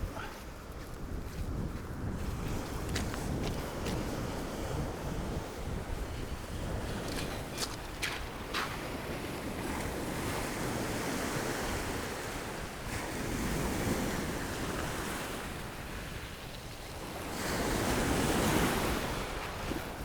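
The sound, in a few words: sea waves breaking on a beach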